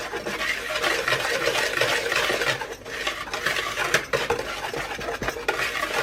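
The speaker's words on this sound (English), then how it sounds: "So now I'm going to mix all of this together" Pumpkin pecan cobbler ingredients being stirred together in a bowl, a continuous close scraping and clinking of a utensil against the dish with uneven rhythm and brief pauses.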